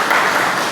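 Clapping from a gathered audience during a spiritual talk, a brief steady wash of many hands applauding together at close range.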